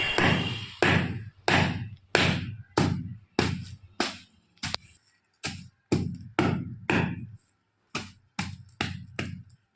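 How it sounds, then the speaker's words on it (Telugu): Cardamom pods pounded in a mortar for a healthy jaggery sweet, a steady run of about fifteen loud, close thuds at an even rhythm with brief pauses, no talk. "యాలకులు కూడా దంచి వేసుకోవాలి"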